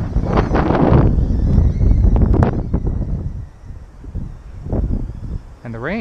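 Gusty wind buffets the microphone outdoors while a Fayee FY804 pico quadcopter flies, a loud rumbling roar that rises and falls throughout, easing off midway before swelling again.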